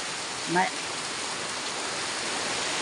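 Steady, dense rain falling outdoors in Tagbilaran, an even wash of hiss throughout with a brief voiced sound near the start.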